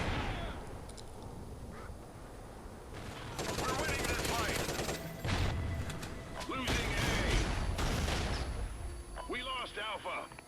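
Rapid gunfire from the Maverick weapon of the Onslaught pack in a video game, dense repeated shots at fairly loud level, mixed with other busy game effects throughout.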